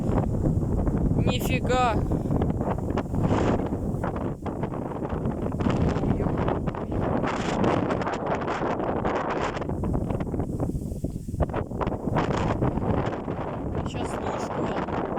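Strong gusts of wind sweep across an open field during a storm, roaring and buffeting the microphone continuously and loudly, while a man exclaims briefly over the rush.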